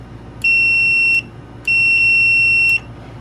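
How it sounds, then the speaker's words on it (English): A multimeter emits continuity beeps while testing a Furrion microwave switch: two loud, steady high-pitched electronic tones, the first under a second and the second about a second long, separated by a short gap over faint background hum. "we're gonna check continuity through this switch"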